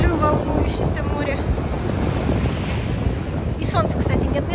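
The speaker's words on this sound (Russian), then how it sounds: "Люблю волнующееся море." Rough sea waves roll and break under strong wind at the Black Sea coast in Anapa in early spring, a loud constant surf roar with gusting wind buffeting the microphone and brief swells of crashing water.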